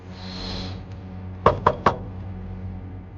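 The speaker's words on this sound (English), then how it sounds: "We knock, we get no response." Three sharp, close knocks land in quick succession on an apartment door, following a faint high whine that fades out, then a quiet room hum.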